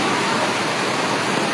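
Rain pours down steadily outdoors in Haridwar, a dense, even hiss filling the whole moment with no pauses or other sounds.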